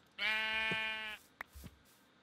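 Sheep bleat in a farming video game: one long, wavering bleat lasting about a second, followed by a couple of soft clicks and thumps, with no talking.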